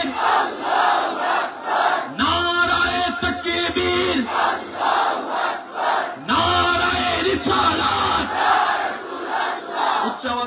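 A large crowd at a religious gathering in Kulaura roars a Takbir chant in loud repeated waves, with rising and falling shouted voices filling the whole clip.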